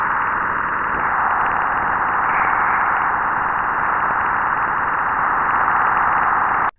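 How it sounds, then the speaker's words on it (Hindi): Jupiter's radio emissions converted into sound form a steady, loud hiss of band-limited noise with a faint roaring texture, running unbroken throughout and cutting off abruptly at the end. "जुपिटर का साउंड आप सुन सकते हैं।"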